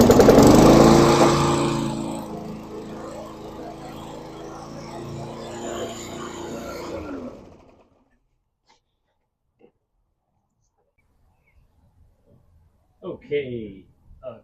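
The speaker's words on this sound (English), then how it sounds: "probably a first pull start motor right now" Small walk-behind lawn mower engine, just fitted with a new carburetor O-ring, running loud and steady right after a pull start for about seven seconds before cutting out; near-silence follows, then a brief burst of speech.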